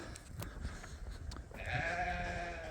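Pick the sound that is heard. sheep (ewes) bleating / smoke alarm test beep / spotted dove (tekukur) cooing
sheep (ewes) bleating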